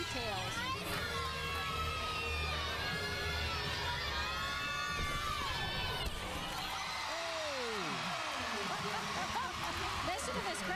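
A crowd at the O-Dome cheers and shouts, with whoops rising and falling throughout a 2011 Alabama at Florida NCAA women's gymnastics meet, while a commentator talks over the noise.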